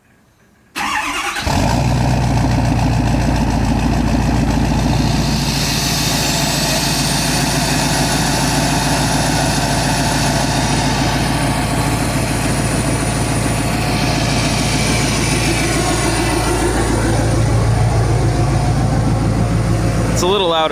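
Fully loaded pickup truck with aftermarket exhaust work, started by remote start: the engine catches after a brief quiet moment and settles into a loud, steady, rumbling idle held close for about twenty seconds.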